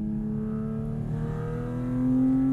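A Porsche GT4 RS engine drones steadily while driving, a sustained engine tone that swells louder near the end as it revs higher, with no talking.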